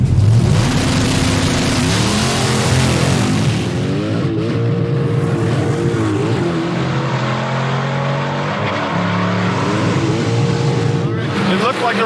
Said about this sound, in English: Alex Taylor is apparently getting ready in the 55 Plymouth, which is one of the grudge match Hellcat-powered cars.